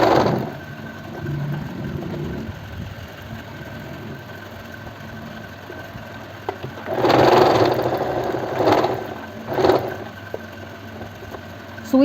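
A sewing machine stitches a kurti in short bursts, a low mechanical whirr against a quiet room, with a few louder runs of stitching near the end.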